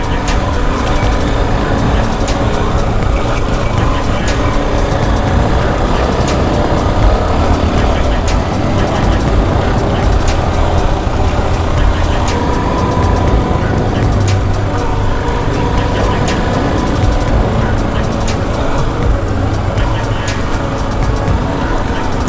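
A Royal Enfield Himalayan motorcycle rides through a forest, its engine running as a steady, loud rumble throughout with constant road and wind noise.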